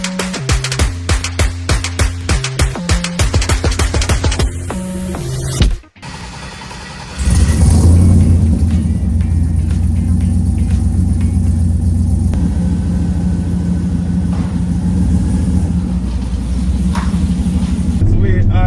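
A Chevy car rumbles as it drives, a loud steady engine drone inside the cabin after an earlier stretch of music, with a person talking partway through.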